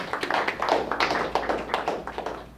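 Audience applause for a participant at an NLP seminar, heard as a short, close burst of brisk clapping from a small group that stays fairly even throughout.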